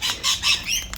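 A backyard chicken gives a few short, shrill squawks close by, in quick bursts with brief pauses between them.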